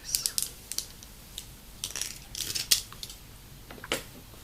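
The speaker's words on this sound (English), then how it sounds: "I should just get some scissors." Scissors are handled up close during a quiet fake-nail and beauty session: faint scattered metallic clicks and snips, some in quick pairs, over near silence.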